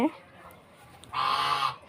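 A raja duck lets out a single loud, drawn-out honking call lasting about half a second, close by, after a quiet stretch with a brief low sound at the start.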